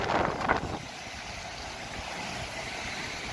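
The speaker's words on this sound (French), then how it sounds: "Parce qu'il y a pas mal de vent" Gusts of wind buffet the microphone outdoors on a street in Rouen, a steady low rumble that is louder in the first moment and then settles into constant blustery noise, with no one speaking.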